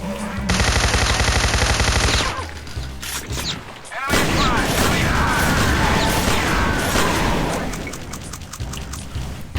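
Pistol and other gunfire in the shooter game D.E.A.R. (Doom Encounter Assault Recon): a dense burst of rapid shots, then loud continuous booming firefight and crashing effects that fill the whole stretch.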